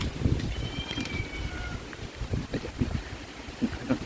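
A cat meows on a rainy rooftop while being fed during Cyclone Remal. Its thin, high cries rise briefly over steady rain and scattered low thumps and knocks.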